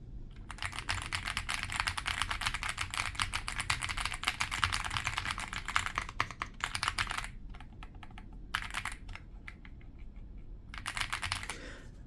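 Rapid, clacky typing on a FELICON mechanical keyboard, dense at first and then breaking into shorter bursts separated by brief pauses.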